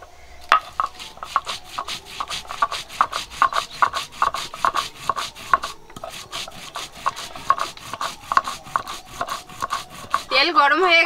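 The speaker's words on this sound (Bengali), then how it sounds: "জিরাটা বেটে নেব এখন।" Cumin seeds are ground by hand on a stone, with rhythmic rasping strokes repeating close and steady at about two per second, then a brief voice at the end.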